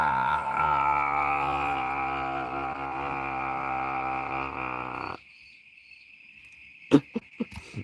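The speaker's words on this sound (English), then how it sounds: "I'm hearing so many more crickets now" Crickets chirp in a loud, dense, steady chorus that stops abruptly, followed by near-silence and a few sharp clicks.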